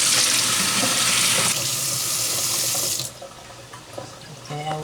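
Water gushes loudly from a kitchen tap while noodles for pancit are rinsed, a steady hiss that cuts off about two-thirds of the way through, leaving faint clinks and splashes.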